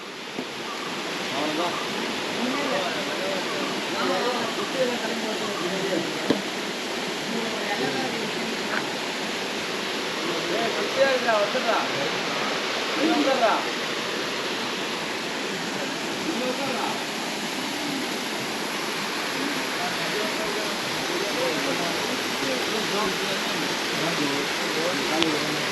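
The Manneera waterfall in Konni, Pathanamthitta, Kerala, gives a steady broadband rush of falling water that stays even and fairly loud throughout, with faint voices now and then.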